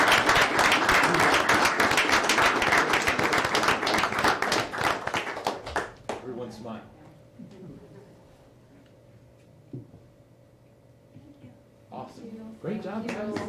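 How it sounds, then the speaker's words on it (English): Applause and clapping from an audience at a city mayor and council meeting in Gaithersburg fill the first six seconds densely, then fade out to quiet room sound with scattered voices and a brief return of noise near the end. "Let's give them all a great round of applause"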